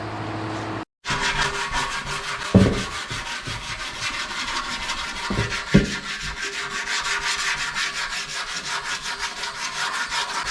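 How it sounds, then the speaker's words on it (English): Steady, continuous sanding of glaze on a 30-year-old chopper motorcycle body with a rhythmic back-and-forth scratch, close and fairly loud, with a couple of brief knocks along the way. "Sanding down my glaze."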